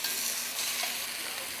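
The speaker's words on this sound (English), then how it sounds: "Same thing with the oxtail, just going to sear it like that" Oxtail sears in a pot with a soft, continuous sizzle. The hiss is even and fairly faint, with no talking.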